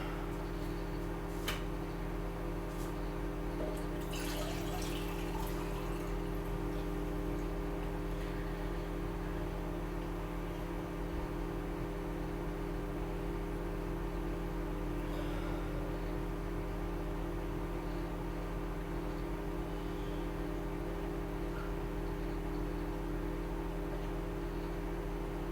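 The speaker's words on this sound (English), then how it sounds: "10 minutes start. High power microwave." A high-power microwave oven runs with a steady low electrical hum that drones on without a break, with a few faint ticks and clicks over it.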